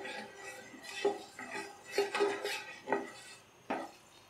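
Whole cumin, bay leaf, cardamom and cloves crackle and pop in hot oil, with scattered sharp clicks and light clinks over a steady sizzling background, close by.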